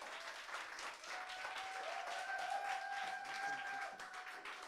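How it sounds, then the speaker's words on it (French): A live audience applauding after an apartment concert and interview, a steady, fairly faint patter of many hands clapping throughout, with a sustained tone ringing faintly beneath it. "On peut l'applaudir."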